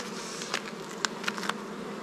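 Honeybees buzzing at a beehive, a steady soft drone with several individual bees zipping close past in quick sharp passes, no talking.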